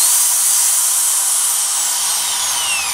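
A Makita hammer drill runs continuously with a loud, steady, high-pitched whine and motor hum, close by with no talking.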